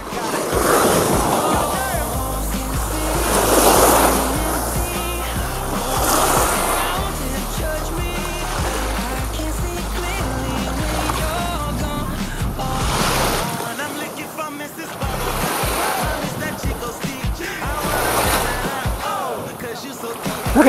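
Sea waves washing onto a shore in steady surges, with wind buffeting the microphone throughout.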